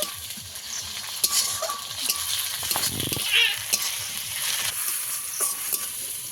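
Softened onion with ginger-garlic paste fries in a pan for prawn malai curry, a close, moderately quiet sizzle with scraping stirs and a few clinks of a utensil against the pan, no voices.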